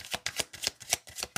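Tarot cards are shuffled in quick, close, rhythmic riffling bursts, about a dozen crisp papery flutters in rapid succession with no voice.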